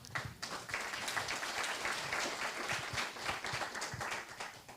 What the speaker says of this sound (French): J'adore être applaudi, donc on va attendre les 8 minutes